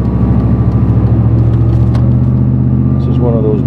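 An old pickup truck's engine hums steadily while driving on the highway, a loud, constant low drone with road rumble and no voices.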